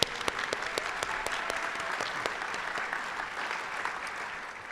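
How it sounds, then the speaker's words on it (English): Steady audience applause at an environmental excellence awards celebration honoring volunteers, many hands clapping densely for the whole stretch with a few sharper individual claps standing out. "So give all of our volunteers a round of applause."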